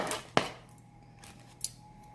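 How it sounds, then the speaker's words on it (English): Knife dicing frozen celery on a cutting board: a couple of sharp, isolated chops with a quiet pause between, close and fairly soft. "So this is frozen celery that I'm just dicing."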